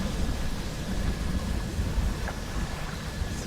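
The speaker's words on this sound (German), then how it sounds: "Ah, es blitzt und donnert." Thunder rolling over a stormy sea in the fishing video game Dredge, a dense, continuous low rumble mixed with wind and wave noise, loud and unbroken throughout.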